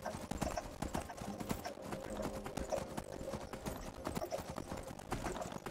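A horse's hooves clip-clop in a steady, even rhythm in the Skyrim video game, fairly quiet and continuous throughout, with no voices.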